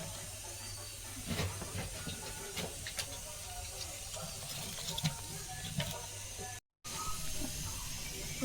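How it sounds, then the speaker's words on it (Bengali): Milk heating in a pot for Bengali payesh gives a steady bubbling hiss with faint steam texture, continuous at moderate level, with a brief dropout near the end. "দুধটা আমি এখন জাল করে নেবো দুধটা ভালো করে কিছুক্ষণ জাল করে নিতে হবে"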